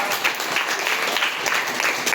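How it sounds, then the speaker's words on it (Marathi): Applause from an audience at a school coaching-class prize distribution, a steady dense clapping that fills the whole moment at close range, with no break or let-up. "टाळ्या वाजवा"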